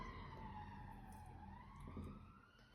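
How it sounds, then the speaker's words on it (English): An emergency vehicle siren wails faintly in the distance as it passes by, its tone sweeping slowly up and down over low background hum. "this is like the fourth siren that has gone by in your reading"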